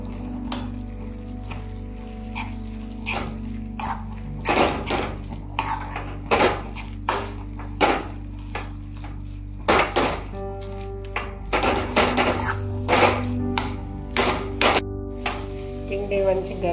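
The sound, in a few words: mixing flour dough in a bowl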